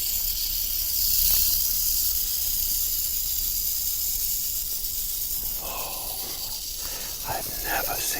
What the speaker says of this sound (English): Almost on cue, Smog starts to rattle